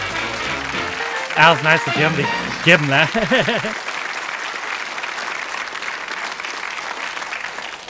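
Studio audience applause on the darts game show Bullseye rolls on steadily under someone talking over it for the first few seconds, then continues alone at a moderate level.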